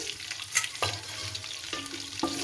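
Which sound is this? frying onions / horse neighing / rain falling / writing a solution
frying onions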